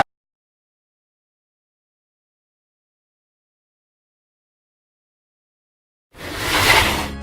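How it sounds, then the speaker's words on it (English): A cooler is lifted down off a shelf with one short, close burst of scraping and rustling near the end, after several seconds of near silence. "That's the sound of a cooler coming down off the shelf."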